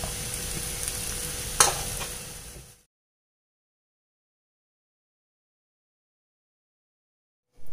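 Mashed potato masala sizzles as it is stirred in a hot pan, a steady close frying hiss with a sharp scrape, ending abruptly in silence after a few seconds.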